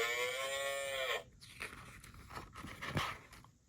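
A farm cow lets out one long, loud, low moo lasting about a second, followed by quieter shuffling and crunching noises nearby.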